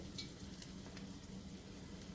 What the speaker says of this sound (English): You want that nice, beautiful sizzle.